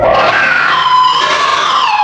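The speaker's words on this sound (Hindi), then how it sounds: "उसने एक जोर से चीख लगाई" A girl's loud scream for a horror story, sustained and piercing from start to finish, close and alone with no talk.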